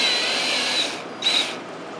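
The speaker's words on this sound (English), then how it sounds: "Let's chuck it up in the drill." A motorcycle exhaust valve, from a 1971 Honda CB175 engine, spins chucked in a power drill, giving a steady whining whir that dips briefly and then surges again, close and alone.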